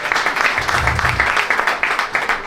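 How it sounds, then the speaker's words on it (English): Comedy club audience giving a round of applause for the MC, a fairly close, rhythmic patter of clapping hands with a low murmur of crowd voices mixed in underneath. "Can we give him a round of applause, please?"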